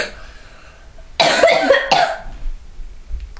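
Two loud, close coughs in quick succession, harsh and breathy, with no talking.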